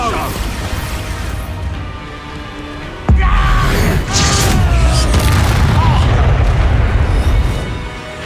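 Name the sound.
Expulso explosion spell in video game Hogwarts Legacy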